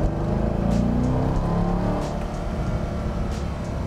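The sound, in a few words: Corvette C5 Z06 sports car driving by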